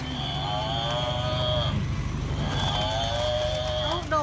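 A young water buffalo at a temple in Thailand lets out two long, drawn-out moos, one after the other, close by and fairly loud over a steady background hum, with people talking quietly nearby.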